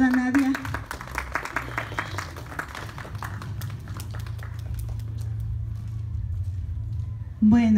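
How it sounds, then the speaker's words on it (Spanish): A room applauds for a teacher at a school event: a steady wash of scattered clapping fills most of the moment, with a voice speaking briefly at the start and again as the clapping fades. "Fuerte los aplausos para la profesora Nadia."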